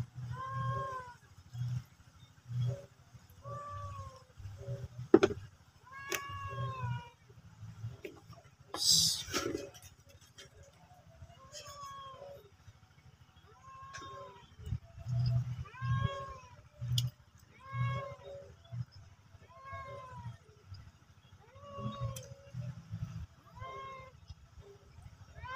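Farm goats call out in a repeated series of short, wavering bleats. The calls come every second or two, some near and some a little farther off, over a low background rumble.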